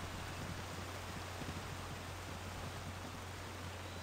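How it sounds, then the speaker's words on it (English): Steady broadband rushing of a waterfall fills a Baldur's Gate game scene, a constant even roar with a low hum beneath and no breaks throughout. "And I hope the waterfall is not too loud."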